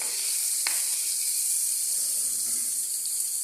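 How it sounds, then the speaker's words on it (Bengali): Prawns frying in a pan give off a steady, bright sizzle and hiss that runs the whole time, with a few faint pops and crackles. No one speaks. "চিংড়ি মাছ রান্না করতেছি, তেমন একটা রান্না করতে পারি না, তাই ভাজতেছি, ফ্রাই করতেছি।"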